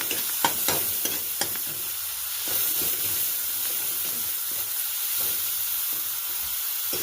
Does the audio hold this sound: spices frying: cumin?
yes